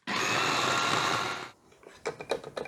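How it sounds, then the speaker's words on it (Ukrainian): A blender grinding a yogurt marinade whirs loudly and steadily for about a second and a half, then cuts off, leaving clattering and knocking sounds. "тепер це все треба подрібнити, щоб утворився такий однорідний соус."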